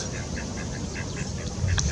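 Ducks quack faintly in a short, repeated series outdoors against a steady hiss of background noise, with no talking.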